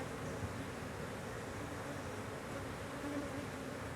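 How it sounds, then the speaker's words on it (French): A swarm of domestic honeybees from a colony in a park, heard as a steady, dense buzzing drone that holds evenly throughout, with no voices over it. "Voilà un bon exemple de colonie d'abeilles"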